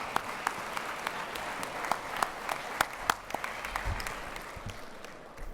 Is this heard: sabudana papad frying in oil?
no